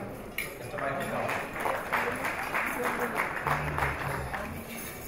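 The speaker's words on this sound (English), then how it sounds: "Let's give him a round of applause." Audience applause at a gala dinner and award ceremony, a steady wash of clapping from a large crowd that starts abruptly and holds at an even level, with some voices mixed in.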